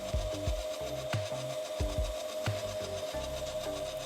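Sandpaper rubs back and forth over a snooker cue tip near the ferrule in quick rasping strokes, close by, with a steady tone humming underneath.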